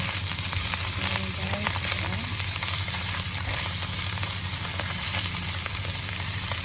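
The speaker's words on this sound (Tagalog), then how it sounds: "halo haluin natin ang ating chicken breast." Chicken breast for chicken pastil being stirred in a hot pan with chili paste, a steady loud sizzle and frying hiss running throughout with faint scraping of the spoon, no voices.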